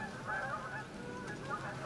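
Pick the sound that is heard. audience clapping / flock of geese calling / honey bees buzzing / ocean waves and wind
flock of geese calling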